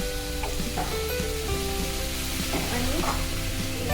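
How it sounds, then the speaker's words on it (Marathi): Carrot halwa with cardamom stirred in a pan, a close continuous sizzle with busy scraping and clinking stir strokes, no voices. "आणि वेलची सगळी मिक्स करून घेऊ"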